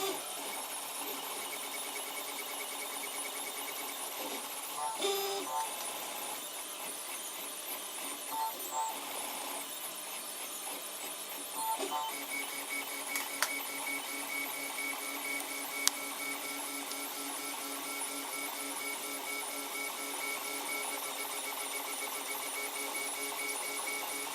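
A printer runs steadily for the whole stretch, with a continuous whirring, buzzing mechanical drone, shifting tonal hums and occasional faint ticks and clicks, fairly quiet and with no talking.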